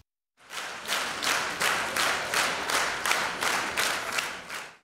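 Enthusiastic applause from a concert audience for a young pianist, dense sustained clapping that swells in rhythmic waves, loud and steady throughout with no voices.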